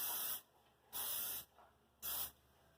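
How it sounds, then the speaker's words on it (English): Three short bursts of cooking spray hiss onto a pan for pancakes, each a loud, even, close spray about half a second long, separated by brief quiet gaps. "Alright, what I'm going to do is spray my pan."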